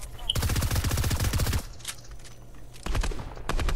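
Rapid automatic gunfire in a multiplayer shooter video game, a dense close burst of shots lasting over a second, then a pause and two more short bursts.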